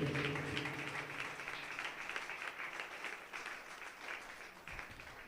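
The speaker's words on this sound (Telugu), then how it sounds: "బిగ్గరగా చప్పట్లు కొడుతూ" A worship congregation clapping loudly together during praise, a dense, rapid patter of many hands that stays strong and continuous, fading slightly toward the end.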